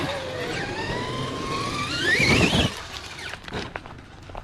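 Traxxas X-Maxx RC truck driving outdoors, its electric motor whining and rising in pitch under rolling tyre noise, surging loudest mid-way before easing off to scattered rattles.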